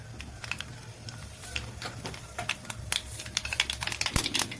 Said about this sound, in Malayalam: എണ്ണ ചൂടായിട്ടുണ്ട്. 1 സ്പൂൺ കടുക്,